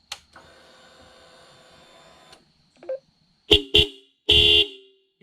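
A very loud dual-tone horn on a Honda CB500X motorcycle gives two short close blasts and then a longer one, each sharp and brassy, after a quiet stretch of faint electronic whine.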